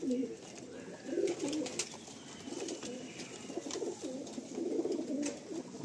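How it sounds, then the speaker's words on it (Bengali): Domestic pigeons coo in a loft at Barasat, soft throaty rolling calls from several birds that overlap and repeat steadily and fairly close throughout. "আমরা এখানে মোটামুটি 20-22টা পায়রা ধরেছি, আরও 30টা মতো পায়রা ভিতরে রয়েছে"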